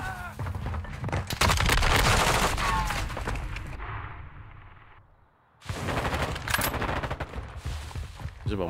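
Rapid bursts of gunfire from Grand Theft Auto, loud and dense, in two stretches separated by a brief quieter gap, with game sounds mixed in.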